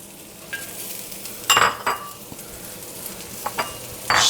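Vegetables stir-fried in peanut and sesame oil, with sharp scraping and clinking of a utensil against the pan in brief bursts over a soft steady sizzle, nearby and fairly quiet.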